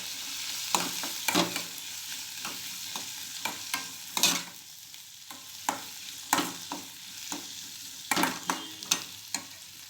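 A spoon stirs split chickpea curry in a pan after garam masala is added, with about a dozen sharp scraping strokes at an uneven rhythm over a soft, steady sizzle of frying.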